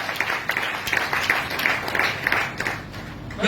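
An audience claps steadily in applause for an organisation at a gathering, with dense, continuous hand clapping and no pauses, crowd noise mixed in.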